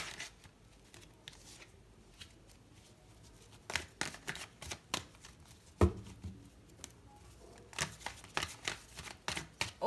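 Tarot cards are shuffled close by in a quiet room: soft riffling bursts and flicks that come in irregular clusters and grow busier and louder toward the end, with no talking.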